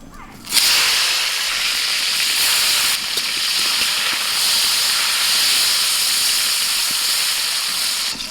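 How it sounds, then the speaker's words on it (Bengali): Bitter gourd (karela) hits hot oil with a quick rise into a loud, even, hissing sizzle that holds steady throughout. "এবার করলাটা ভেজে নেবো"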